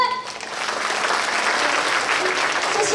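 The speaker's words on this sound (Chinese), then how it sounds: "我们给市长一个热情的掌声" An audience gives a warm round of applause for the mayor at a volunteer awards ceremony in Kaohsiung: dense, sustained clapping that fills the hall close and loud for a few seconds.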